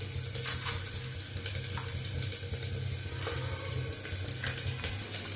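Cumin and fennel seeds sizzle and crackle in hot oil along with bay leaf, a steady close frying hiss with scattered pops and no talk.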